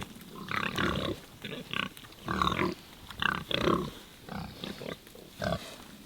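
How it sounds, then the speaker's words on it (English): A group of pigs on a farm plot makes close, repeated grunts in irregular bursts throughout, with no talk. "Looks like the pigs have split into two groups"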